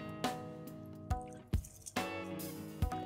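Soaked rice is tipped into a pot of boiling water, giving a few wet plops and splashes over a steady bubbling simmer, with no talking.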